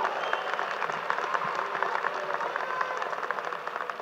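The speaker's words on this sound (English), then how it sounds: "let's give him a round of applause for an inspiring speech" A university commencement audience applauds the chancellor after his speech, a dense, continuous round of clapping from a large crowd, steady throughout.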